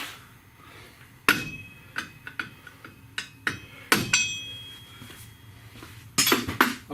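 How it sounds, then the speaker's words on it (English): A wheel center cap is worked off a GMC Sierra with sharp metallic taps and clinks coming in irregular bursts, a few louder knocks standing out, close and with no talk. "We'll remove the center cap."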